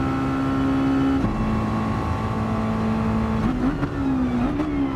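A Mazda race car in Gran Turismo 7 drives a Mazda Cup race, its engine holding a loud, steady high whine. The pitch drops as it brakes into a corner, wavers, then climbs again, with no talk.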